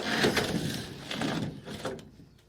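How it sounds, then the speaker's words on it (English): An old sliding polytunnel door being shut in a greenhouse gives a broad scraping, rolling rumble in a few surges over about two seconds, then fades out with no talking. "It's the old sliding polytunnel door."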